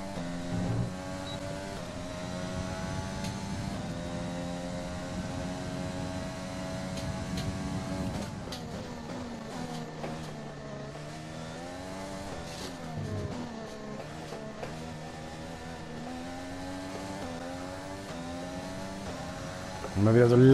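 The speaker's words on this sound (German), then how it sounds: "Da ist noch ein Auto vor mir, McLaren." Formula 1 race car engine from the video game F1 2020 at the British Grand Prix practice session, a continuous whining drone that climbs and drops through gear changes, with someone talking over it throughout.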